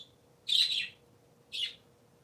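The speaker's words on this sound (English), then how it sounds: "Parakeets are very, very cool birds." Parakeets chirp in two short, bright bursts, the first longer and the second briefer, with a quiet gap between them over a faint low hum.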